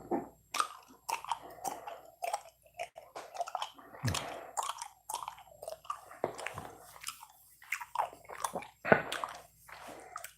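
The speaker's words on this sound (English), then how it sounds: "Chewing gum." Close, wet chewing of gum with smacking and squishing mouth sounds, repeated irregularly, quiet and intimate with no talking.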